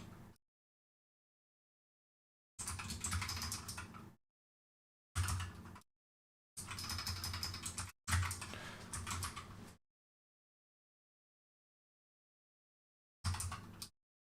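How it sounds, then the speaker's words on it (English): Bursts of rapid typing on a computer keyboard while coding in Lua, several separate clusters of clattering keystrokes broken by silent pauses. "Not my best typing today, I will admit that."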